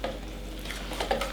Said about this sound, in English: And we are going to get that stirred up.